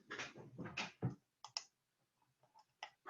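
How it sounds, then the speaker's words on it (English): Computer mouse clicks on a green check mark in 3D design software, a few sharp, close clicks in quick bursts, then sparse quieter ticks. "we're going to click the green check mark"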